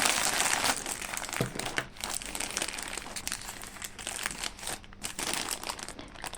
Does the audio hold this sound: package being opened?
yes